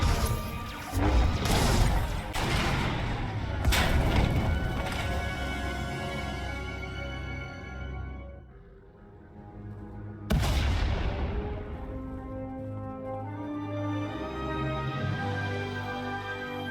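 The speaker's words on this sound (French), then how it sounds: "On a entendu des explosions." Heavy booming explosions from a tunnel collapsing in the video game Star Wars: The Old Republic crash in a rapid cluster, followed by a long rumbling decay, then another big blast that fades out into echoing reverberation.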